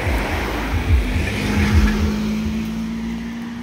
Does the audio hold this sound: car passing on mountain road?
yes